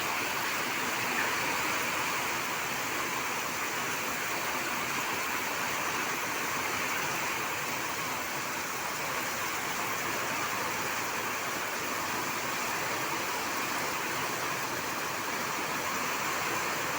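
Heavy rain pours in Chennai as a steady, dense hiss that goes on unbroken for the whole stretch, with no voices over it.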